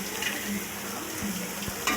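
Turmeric powder being stirred in a cooking pan: a soft, steady sizzle with a few faint scrapes of a spoon against the pan, heard alone and fairly quiet.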